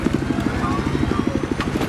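Helicopter in the video game Battlefield 4, on the Paracel Storm map during a 15v15 match: a steady, rhythmic rotor thump with engine whine, fairly loud and continuous, with faint game noise around it.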